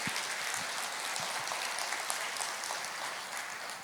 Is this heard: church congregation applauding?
yes